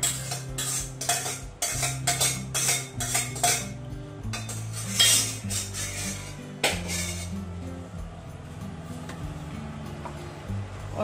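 A metal spoon scrapes and clinks against a pan while boiled chickpeas are stirred into fried masala, with busy, irregular clattering that settles into quieter stirring under a low steady hum.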